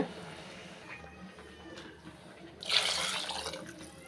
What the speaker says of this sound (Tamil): தண்ணி சேர்த்துக்கிறேங்க